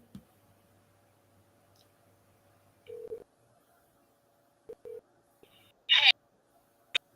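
Ringback tone heard during a phone call: a few short electronic tone pulses separated by near silence, followed by a brief louder click or rustle, with no talking.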